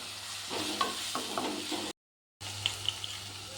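Green chilli paste frying in oil in a pan for a leafy greens stir-fry, a soft steady sizzle with a few stirring clicks and scrapes, cut by a brief silent gap midway.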